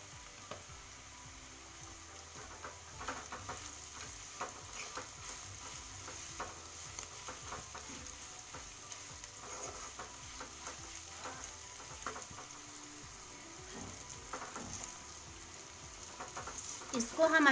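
Sliced bitter gourd (karela) fries in oil and is stirred in a pan, a steady moderate sizzle with frequent soft scrapes and clicks of the spoon throughout.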